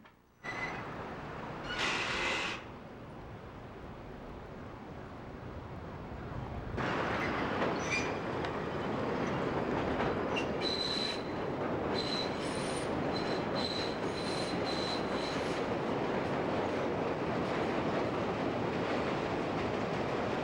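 A southbound CTA Red Line subway train waits with a steady rumble, then metal wheels squeal in sharp, high, repeated tones over the low running noise, close and loud.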